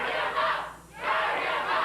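A wrestling arena crowd at a USWA event cheers and roars in two broad swells, loud and close, with a brief dip between them.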